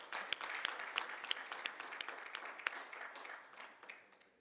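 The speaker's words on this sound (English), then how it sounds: "Let us thank the audience with a round of applause from our side." Audience applause at the evening session of a business festival in the UAE in 2017, a steady wash of many hands clapping with scattered sharper claps, moderately distant and continuous throughout.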